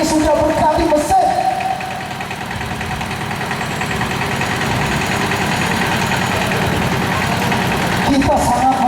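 A motorized becak rickshaw, apparently refitted with a different engine, idles with a steady, loud, rumbling chug at a street protest, with brief voices at the start and end.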